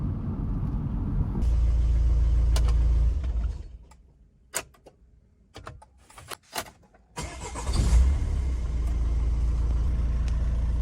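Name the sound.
used cabrio car engine running, 1.9 liter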